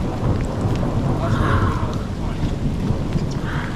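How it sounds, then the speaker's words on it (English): A thunderstorm outside a garage brings heavy rain pouring down in a constant close wash, with low rumbles of thunder rolling underneath. "There's a lot of lightning strikes outside."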